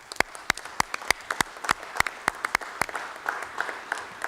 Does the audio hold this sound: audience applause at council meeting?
yes